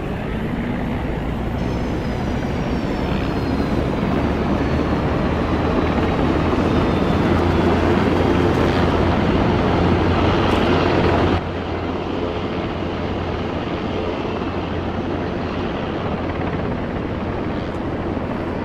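A military helicopter in Arma 3 lifts off, its engines and rotor making a loud, continuous drone that holds steady throughout with a slight drop in tone near the end. There is no talking.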